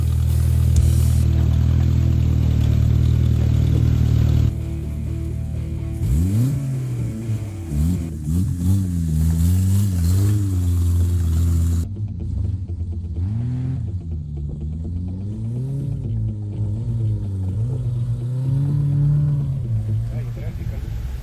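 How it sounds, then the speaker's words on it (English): A 1000cc off-road buggy engine drives and revs repeatedly at a 4x4 club outing, its pitch rising and falling in loud, rough sweeps over a steady rumble. "And this is Yapi coming with his 1000cc buggy."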